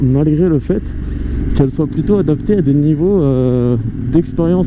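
A KTM 890 Duke motorcycle engine hums low and steady while riding, heard beneath continuous close-up talking in French.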